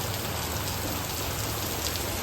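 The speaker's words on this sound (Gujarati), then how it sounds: "જોરદાર વરસાદ આવે ભાઈ જોરદાર હો ભાઈ એક નંબર વરસાદ આવે" A steady, dense roar of heavy rain pours down outdoors, loud and unbroken with no gaps and no voices.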